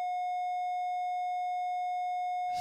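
A steady, pure sine tone from a synthesizer oscillator holds at one pitch, clean and smooth, sustained alone for a couple of seconds before a brief rough burst at the end.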